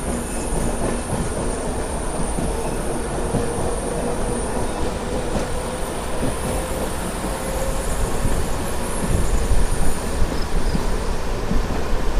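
A Tirupati–Puducherry MEMU express train pulls away with a continuous loud rumble of rolling wheels and rail noise that builds slightly toward the end.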